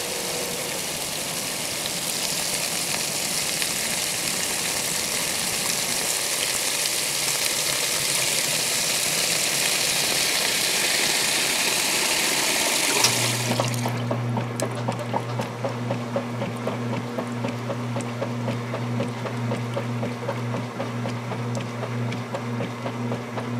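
A vintage KitchenAid washing machine starts a warm wash cycle, first with a steady rush of incoming water, then a motor that kicks in with a low, continuous hum and faint rhythmic churning.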